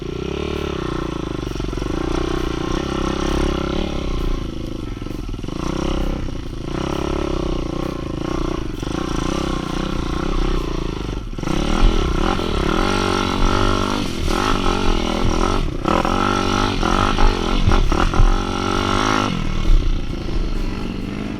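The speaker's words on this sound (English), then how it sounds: "When you're on the bike with 190cc worth of fucking power, something that weighs next to nothing." A lightweight 190cc motorbike climbs a steep slope, its engine droning and rising and falling in pitch as it revs, with clattering and scraping from the terrain and louder bursts of throttle in the second half.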